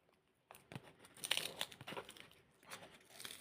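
A small plastic blind-bag packet is crinkled and torn open up close, giving quiet, irregular crackles and rips over a few seconds.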